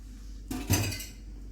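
A cooking dish of smoked yogurt mutton is lifted out and set down with a single quick metallic clatter of pot and utensil, close and fairly quiet, in a kitchen otherwise near silent.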